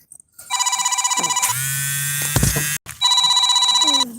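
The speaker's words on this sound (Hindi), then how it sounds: "फोन आ रहा है" An incoming call rings out on a phone, a loud electronic ringtone pulsing in repeated bursts with a brief buzzing interruption midway before the ringing resumes.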